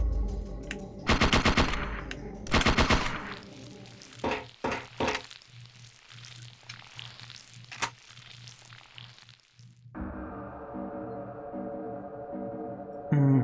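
Gunfire in the video game Parasite Eve 2, with a few quick bursts and single shots early on, then a quieter stretch of game ambience and a sustained tone under it.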